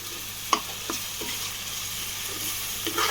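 Mutton curry fries gently in oil with a quiet, steady sizzle. A few distinct spoon clicks and scrapes come from stirring the pot, over a low hum.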